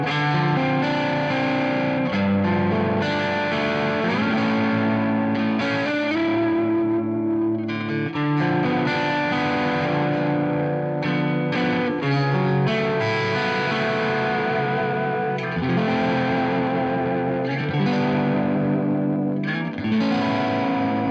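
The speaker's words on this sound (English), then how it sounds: "Let's add a bit of reverb on top of that. Ooh, that's a big reverb." An electric guitar played through the Arturia FX Collection 2 big reverb, distorted, chorus-tinged chords and notes ringing out continuously with a wide, washed sustain, loud and unaccompanied.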